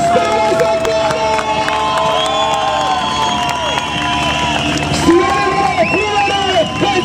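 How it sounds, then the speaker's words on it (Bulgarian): A large crowd at a motorcycle stunt show roars and cheers continuously, a dense, loud wash of shouting voices and applause with engine-like tonal whine layered underneath throughout. "Аплодисменти за екстримната стара загора!"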